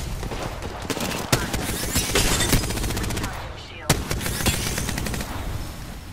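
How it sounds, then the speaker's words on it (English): Video game gunfire aimed at the player: rapid machine-gun bursts and sharp single shots crackle steadily, with a couple of louder nearby cracks standing out from the barrage. "I'm spotted, taking fire."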